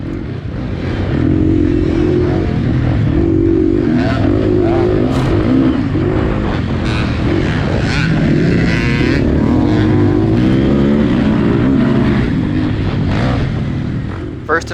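Dirt bike engines rev and race at an off-road IXCR cross-country event in the 30-plus Vet C class, buzzing loudly with fluctuating revs and several machines nearby, mixed with a voice talking over the noise.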